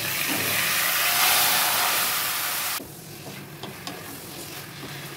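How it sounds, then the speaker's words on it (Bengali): Marinated chicken dropped into hot mustard oil, a loud hissing sizzle that rises sharply, then drops to a quieter bubbling fry with light stirring knocks. "এইখানে আমি সরষের তেল নিয়ে নিয়েছি। তেল গরম হয়ে গেছে। এবার ম্যারিনেট করা চিকেনটা দিয়ে দেব।"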